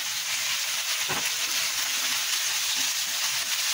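Carrots and boiled macaroni stir-fry in a pan, giving a steady close sizzle with a brief louder scrape of the spatula near the middle, and no talking.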